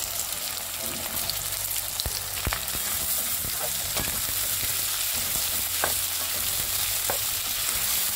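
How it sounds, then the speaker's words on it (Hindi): Onions fry on a high flame in mustard oil for bhuna palak, giving a loud, continuous close sizzle broken by occasional stirring clicks and scrapes, with no voices. "मैं सारे इसमें प्याज ऐड कर देती हूँ और अभी हम इसे हाई फ्लेम पे ही भूनेंगे।"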